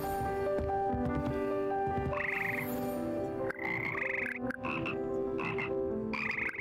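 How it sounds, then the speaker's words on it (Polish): Slimy symphonic frogs in the Hogwarts Legacy game croak together as a choir, a steady layered chorus of loud, close croaks with held tones and rising calls repeating throughout. "Tutaj wsiadają pokryte śluzem symfoniczne żaby, które tworzą żabi chór w Hogwarcie."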